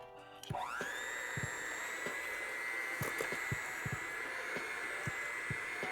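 An electric mixer whirs up to speed and runs at a steady, high-pitched whine while blending brown sugar and other sugar for chocolate chip pecan cookie dough, with soft periodic knocks against the bowl and no talk.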